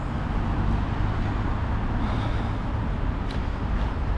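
Monday-morning road traffic outside Strasbourg, a steady, loud wash of passing cars with a continuous low rumble and no pauses, with no voices.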